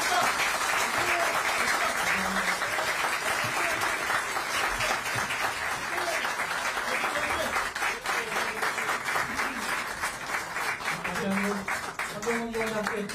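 A crowd applauds a Korean lawmaker at the close of an acceptance speech, dense steady clapping carrying loud throughout, with voices and cheers mixed in underneath.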